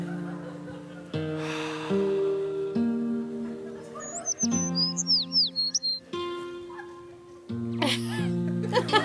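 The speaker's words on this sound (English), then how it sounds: "Yet again, you hear the birds." Short bursts of bird chirps sound in the middle over layered background music, with brief tweets near the end.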